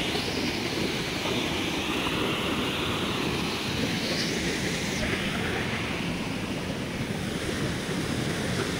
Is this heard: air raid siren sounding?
no